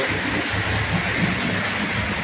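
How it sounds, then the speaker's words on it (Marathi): Heavy rain pours down in a loud, steady broadband roar with a low rumble under it, unbroken for the whole stretch. "पाऊस बघा किती चालू आहे हो."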